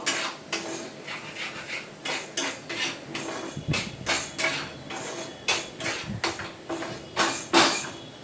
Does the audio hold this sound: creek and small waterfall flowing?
no